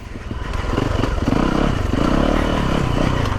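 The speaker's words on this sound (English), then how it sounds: "So Yamaha's done a great job with this motor. It's very rideable." A 2017 Yamaha YZ450FX dirt bike engine running on a slow technical trail, a loud close throbbing drone that rises slightly and holds steady with a rapid pulsing beat.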